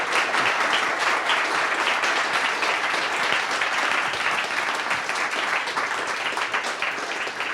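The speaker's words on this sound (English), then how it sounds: "let's give Ken a round of applause" A tech talk audience in Ann Arbor gives sustained, even applause, a thick wash of clapping that stays steady and fairly loud throughout.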